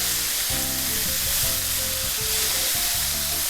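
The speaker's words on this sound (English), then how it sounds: "And we're just gonna brown those, saute those till they're nice and tender" Vegetables sauté in a pan, browning toward tender, with a dense, constant sizzle close by and a low hum underneath, steady for the whole stretch with no one talking.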